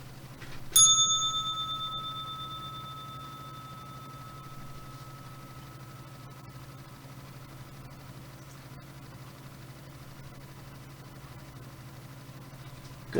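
A single bell strikes once and rings on with a clear, bright tone that slowly decays over several seconds against a low steady hum, with no voices.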